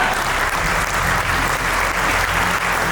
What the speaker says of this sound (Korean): 비전이 이처럼 선포됐으니까 큰 박수 부탁드리겠습니다